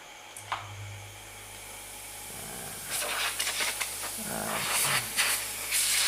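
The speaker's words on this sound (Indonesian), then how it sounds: "setelah itu kita baru menyalakan kompresornya, nyalakan kompresor" A Sanyo two-door refrigerator compressor running during vacuuming gives a steady low hum under a continuous airy hiss, with occasional brief rattles and louder hissing bursts toward the end.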